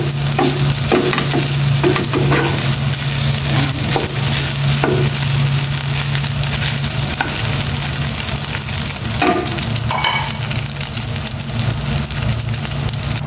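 Ampalaya (bitter gourd) with egg sizzles and fries steadily in a pan, a loud continuous crackle with scattered scraping and turning noises from a utensil, and a low steady hum running underneath throughout.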